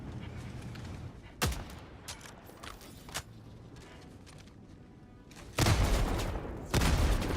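An autocannon firing in Helldivers 2 against bugs on a top-difficulty Helldive mission: a few heavy, booming shots spaced seconds apart, then two loud blasts close together near the end, over low battle ambience.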